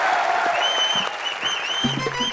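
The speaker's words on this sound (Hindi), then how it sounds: "हमारे द सीनियर मोस्ट अंकल जी के लिए, श्याम दादा के लिए जोरदार तालियां।" A studio audience claps steadily as a dense, continuous wash of applause, with a faint tonal whistle riding above it and brief low voice fragments near the end.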